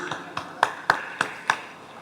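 A small audience at a law-profession dialogue event on mentorship in Nigeria gives a sparse, quiet round of applause: six separate sharp claps spaced about a third of a second apart, with no voices.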